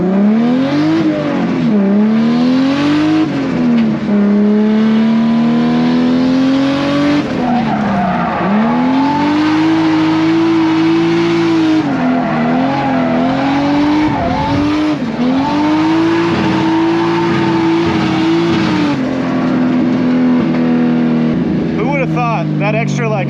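A Mazda RX-7 FD is driven hard around a track, its rotary engine revving up and down through gear changes as the tires squeal and skid. The engine is loud and close throughout, with a voice speaking over it.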